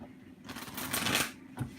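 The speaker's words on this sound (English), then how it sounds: "I'm going to shuffle these cards a little bit better." A deck of oracle cards is shuffled close by in two quick riffling bursts, a longer papery rush followed by a short flick, quiet and without talk.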